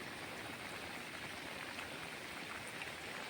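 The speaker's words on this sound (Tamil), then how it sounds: "அதிகமாக மழை பெய்றதுனால" Heavy rain pours on a seashore during cast-net fishing, a constant broad hiss of falling water that stays level and unbroken throughout, with no voices over it.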